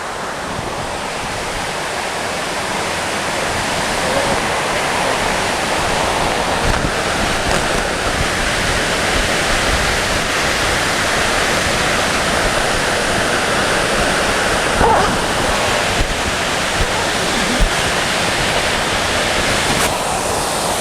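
Waterfall roaring in a loud, continuous rush of falling water, close and steady throughout, with gusts of wind buffeting the microphone.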